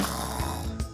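A voice imitates snoring in a Spanish-language children's story about sleepy farm animals, making a single rough, rattling snore with a snort-like burst near the end, close and fairly loud.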